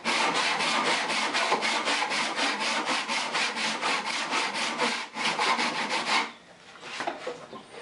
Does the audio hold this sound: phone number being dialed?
no